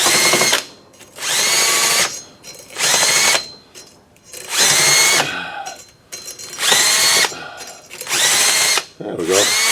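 Power tool cleaning rust off a 2012 Toyota Venza rear brake rotor, loud close whirring in about six bursts of one to two seconds each, separated by short pauses.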